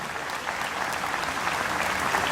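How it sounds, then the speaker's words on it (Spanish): Steady, dense applause from a concert audience at a folk music festival in Mburucuyá, continuous clapping filling the whole stretch at a moderate distance with no talking over it. "Fuerte el aplauso."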